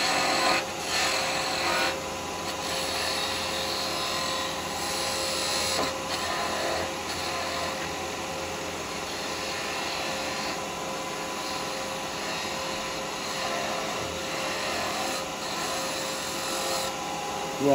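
Wood being turned on a lathe with carbide tools while shaping a bottle opener, giving a steady, continuous scraping rasp over the motor's constant hum, close and fairly loud, with only a brief sharper scrape near the start.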